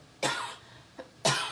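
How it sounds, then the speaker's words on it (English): A person coughing from a tickle in the throat: two separate, sharp, close coughs about a second apart, with a faint throat catch between them, in a quiet room. "Oh, and I feel a cough, a tickle in my throat."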